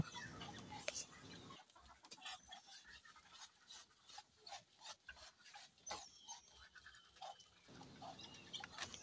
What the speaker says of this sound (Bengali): মুরগিগুলো তাদের খাবার খেতে থাকুক